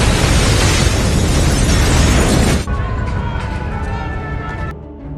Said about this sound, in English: Norman opens Leon's vest only to find a cluster of grenades, which instantly detonate, killing him.